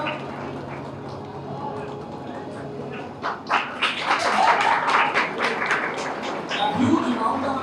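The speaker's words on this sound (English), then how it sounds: "A huge round of applause for Saida" Audience applause welcoming a student at a results celebration, beginning as a few scattered claps then swelling into dense, lively clapping that continues steadily to the end.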